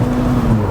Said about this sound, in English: We'll do a little bit of anti-lag here.